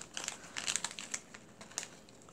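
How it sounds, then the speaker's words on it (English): Big scissors cutting through paper or a crafting sheet, a series of crisp, close crinkling snips at an irregular rhythm, fairly quiet, with no talking. "Let me just cut this. My big honkin' scissors."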